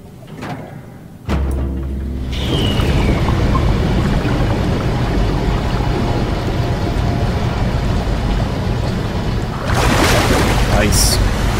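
Water rushing and flushing through a flooded area in the Soma video game, a steady loud churning roar that swells after a faint start and surges again near the end.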